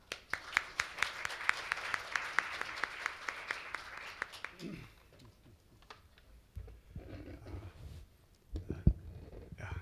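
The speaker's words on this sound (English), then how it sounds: "Please welcome him with a round of applause." Audience applause at an academic forum session in Seoul: brisk, fairly faint clapping that fades out after about four seconds, leaving quiet room noise and a few scattered sounds.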